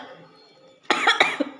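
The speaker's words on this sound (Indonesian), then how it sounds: "Sampai batuk." A short burst of close, harsh coughing from someone who has just eaten mie ayam with very spicy chili sambal, a few sharp hacks after a brief quiet moment.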